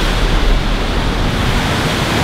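A waterfall in Goldstream Provincial Park, British Columbia, heard as a steady, loud, broadband rush of falling water with no break, close and constant throughout.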